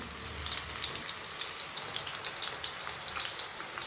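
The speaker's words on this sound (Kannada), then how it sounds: "ಇದು ಕಂಪ್ಲೀಟಾಗಿ ಸ್ವಲ್ಪ ಗರಿ ಗರಿ ಆಗೋ ತನಕ ಫ್ರೈ ಮಾಡ್ಕೋಬೇಕು" Chakli sizzling in hot oil as it fries until crisp, a steady dense crackle of fine popping bubbles with no voices, close and continuous throughout.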